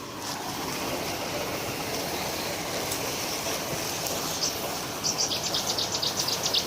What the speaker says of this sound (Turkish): Bakın arkadaşlar kuş sesi.